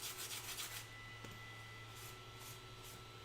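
Steady rasping strokes of a sanding stick rub across a baking-soda-cured joint on a 3D print, close and quiet, with rhythmic scrubbing bursts and a faint background hum.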